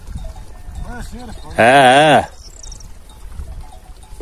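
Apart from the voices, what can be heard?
goats and sheep bleating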